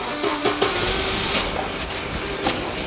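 A 1993 Volvo 960 Turbo being started: a loud, steady engine rumble with a few sharp mechanical knocks and a brief rising whine, heard close up.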